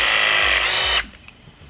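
A ProPress crimping machine with a 1/2 inch head presses a pipe fitting during a gas water heater installation, a loud steady motorized whine running for about a second and then cutting off abruptly to near quiet.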